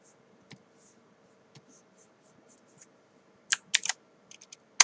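Computer keys pressed while working in a 3D modelling program, including the Enter key: faint scattered clicks at first, then a close burst of sharper, louder keystrokes near the end, with no voice.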